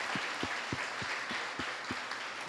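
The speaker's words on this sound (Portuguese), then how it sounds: "Dá um forte aplauso ao Senhor" A church congregation claps together in a steady, regular rhythm during a worship service, roughly three even beats per second over a dense bed of crowd noise, with no voices on top.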